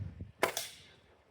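A single sharp crack of a pellet gun being fired, a quick snappy report with a brief follow-up click, after a faint low murmur and then a fading tail.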